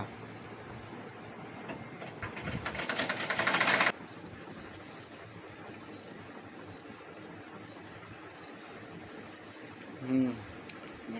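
A home sewing machine stitching gauze-fabric maxi dresses whirs steadily, building to a louder fast run for a few seconds before stopping, then a low mechanical hum continues with a brief thump later; voices talk nearby.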